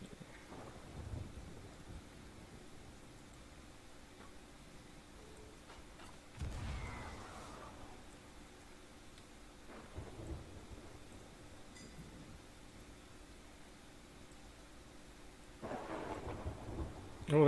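A thunderstorm in the pirate game Sea of Thieves, with low rumbling thunder rolling in several times over a quiet bed of rain and wind, the last roll building loudest at the end.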